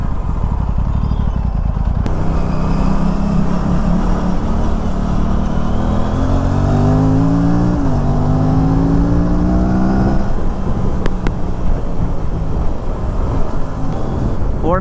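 Aprilia RS 457 motorcycle ridden through city traffic, a loud, steady engine drone with buffeting wind noise and a rising rev as it accelerates midway, then easing back, heard close from the rider's position with no talking.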